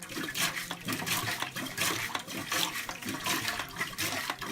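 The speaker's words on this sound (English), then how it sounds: "I made the final flush out" A toilet flushes during a fall shutdown of the plumbing, a close, loud rush of water with surging, pulsing swirls that carries on through the whole stretch without any talking.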